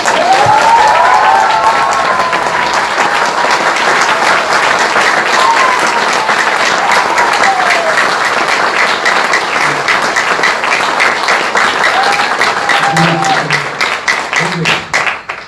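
A seated audience at a motivational talk on kinds of goals claps loudly and continuously, a dense crackle of many hands that carries on for a long stretch before thinning out and breaking up near the end.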